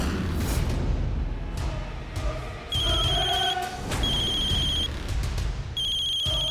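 A telephone rings indoors in a home drama scene, with several bright electronic ring bursts repeating at short intervals over a low background hum.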